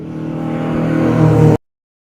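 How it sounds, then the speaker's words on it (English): A DTM Audi race car with a V8 engine, reproduced as a slot car, gives a steady rising whirring drone that grows louder for about a second and a half and then cuts off abruptly into silence. "this is the DTM Audi with a V8 engine, as you can hear"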